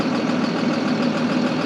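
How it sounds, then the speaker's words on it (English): Tractor engine lugging down under load while driving a grain auger through the PTO, a steady close mid-low drone with no let-up. "And it lugs down the tractor like that."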